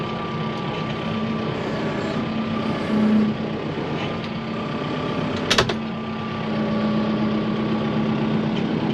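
A truck engine idles steadily and close while being loaded with hay, a constant low rumble with a brief sharp clack partway through and no talk over it.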